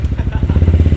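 A Yamaha 125Z two-stroke motorcycle revs close by in quick repeated throttle blips, giving a loud, pulsing engine note with a steady rhythm over about a second.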